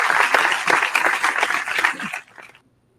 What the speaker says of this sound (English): Give a little applause now.